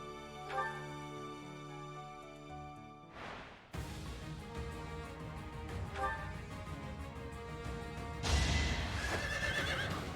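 A horse in the video game Fire Emblem: Three Houses whinnies clearly near the start over game music, followed by ongoing in-game sounds and further effects with hoofbeat-like clatter, moderately loud and steady throughout.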